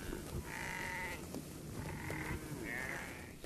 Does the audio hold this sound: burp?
no